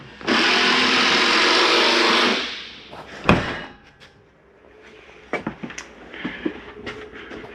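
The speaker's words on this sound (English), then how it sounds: "I'm going to close the door." On a 2022 Keystone Raptor 415 toolbar RV, a motorized door or slide hums steadily for about two seconds, then a sharp thud as it shuts, followed by lighter clicks and rattles.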